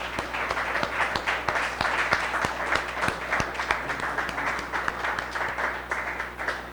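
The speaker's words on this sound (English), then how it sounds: "So let's give him a hearty round of applause." A hearty round of audience applause at a book launch, a thick continuous wash of many hands with a few louder nearby claps standing out, sustained throughout.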